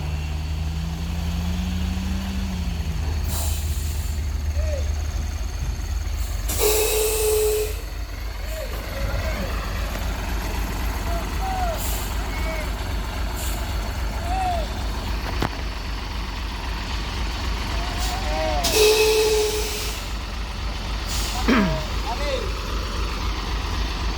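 An idling truck waits to be towed on the Kedabuhan incline, its engine rumbling steadily; loud hissing air brake releases burst out twice, with squeaks between them and people talking nearby.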